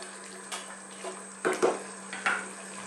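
A spoon scrapes and knocks around a pot of Jamaican chicken curry in a few separate strokes, soft wet stirring sounds over a faint, steady background hum.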